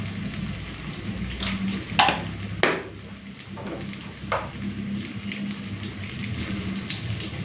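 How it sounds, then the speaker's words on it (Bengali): Green banana peel paste frying in a pan, with a low steady sizzle broken by a few sharp scraping stirs, close and alone without talk. "তারপরে খোসা বাটাটাকে ভালো করে ভেজে নেব।"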